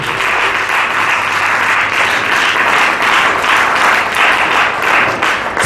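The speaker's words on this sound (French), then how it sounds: "Quelqu'un acclame pour notre Dieu." A church congregation at a Bible seminar bursts into sustained applause and cheering, a dense steady wash of clapping from a large crowd lasting the whole stretch with no clear speech.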